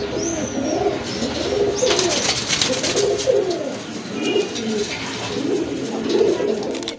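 Pigeons coo in repeated soft, throaty phrases throughout, a female deep red and a male of mixed colour, with a steady murmur of other birds and faint chirps behind them.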